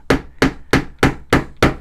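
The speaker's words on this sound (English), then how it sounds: "You get a tack hammer." Tack hammer tapping upholstery tacks into a stool, six sharp, evenly spaced strikes in under two seconds, close and loud with no talking.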